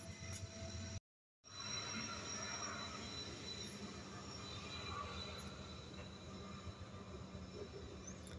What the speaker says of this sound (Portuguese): Eu vou tentar mostrar o trem aqui pra vocês agora.